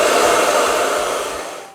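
A hair dryer blows steadily while hair is styled with a round ceramic brush, a loud continuous whooshing airflow that stays even and then tapers slightly at the end.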